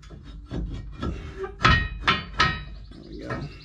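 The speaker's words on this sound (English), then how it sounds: "you might have to hit it with a hammer or whatever" A hammer strikes the torsion bar key on a GMC Sierra truck during leveling kit work: a few sharp, close metallic whacks, two close together near the middle, with faint knocking around them.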